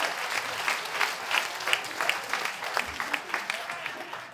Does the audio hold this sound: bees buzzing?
no